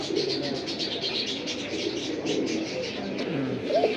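Pigeons in a dense collection coo continuously, a busy overlapping murmur of low calls with higher chirps on top, close and steady throughout.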